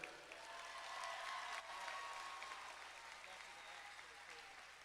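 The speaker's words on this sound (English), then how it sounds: "Let's do one more round of applause for our graduates" Faint, distant applause from an audience at a nursing pinning ceremony for graduates at a college, a soft, even roar of clapping that swells slightly early on and then holds at a low level.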